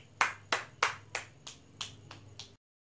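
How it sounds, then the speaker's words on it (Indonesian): Seven sharp, separate hand claps ring out at an even, slightly slowing pace in a quiet classroom, fairly close and clear, with no talking. "Tepuk tangan terlebih dahulu."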